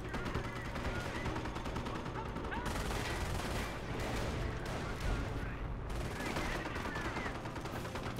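Sustained Thompson submachine gun fire in the World War II strategy game Company of Heroes, Normandy campaign at Cherbourg: continuous overlapping automatic bursts with distant explosions, steady and loud throughout, with a voice talking at times.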